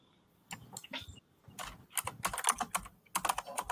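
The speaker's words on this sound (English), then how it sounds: "somebody's typing up a storm" Someone types quickly on a computer keyboard in irregular bursts of clicking keys, close and fairly quiet, with short pauses between flurries and no talking.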